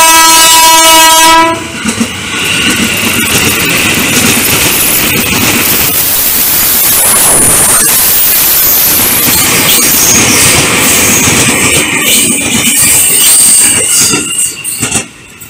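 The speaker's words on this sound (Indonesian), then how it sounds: "Kita lihat dulu KRL Komuter Lainnya melintas dulu." A KRL commuter electric train heading for Tanah Abang passes close by on the Kulon line, sounding a loud horn blast and then a long, roaring rush of wheels clattering and squealing on the rails.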